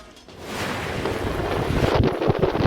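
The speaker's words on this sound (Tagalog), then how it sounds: "Ramdam din ang malakas na hangin sa ilang lugar" Strong wind from a typhoon in Pasuquin, Ilocos Norte, buffets the microphone in a loud, continuous rush with gusty low rumbling, growing slightly stronger toward the end.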